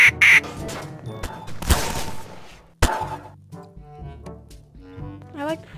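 A duck-quack soundboard in Garry's Mod DarkRP fires a short, loud quack at the start amid game clatter and a sharp bang, followed by muffled people talking over background game noise.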